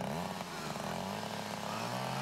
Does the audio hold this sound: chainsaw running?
yes